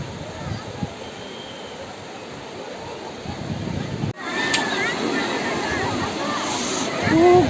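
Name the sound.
waves at the beach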